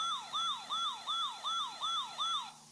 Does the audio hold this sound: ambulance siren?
yes